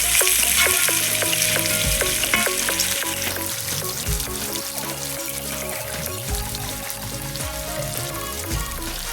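One and a half white onions frying in a pan for a tomato dhal, giving a loud, dense, continuous sizzle close by with steady stirring throughout and no talking.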